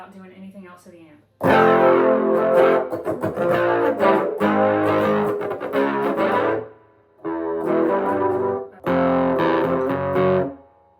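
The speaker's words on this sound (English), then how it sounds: "Distortion without doing anything else to the amp." A Gibson SG Standard Ebony in Silver Burst electric guitar, played through an amp with distortion, rings out in loud, thick bursts of chords and riffs. Two short pauses break the playing, and a brief quieter stretch comes before it starts.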